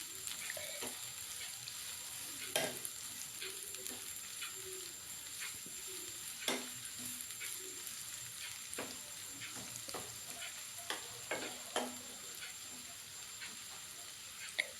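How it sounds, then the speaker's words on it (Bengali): Soft, steady sizzling of chopped onions frying in a pan with occasional clinks and scrapes of stirring; faint birdsong in the background, no talking. "পেঁয়াজ কুচিটা দিয়ে আমি এটাকে ভালো করে একটু নাড়াচাড়া করে নেব"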